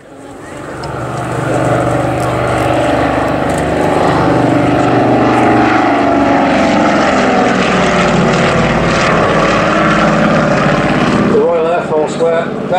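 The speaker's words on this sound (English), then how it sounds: "the Avro 19, the post-war civilian development of the Anson." An Avro 19, the post-war civilian development of the Anson, runs its propeller engines at a vintage air show, a loud steady drone that fills the whole stretch with a slowly shifting tone.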